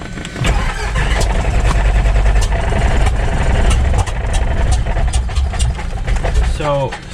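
Light aircraft engine just started and idling with a little extra throttle, a loud steady mechanical drone with rapid ticking pulses, close by, and a brief rising whine near the end.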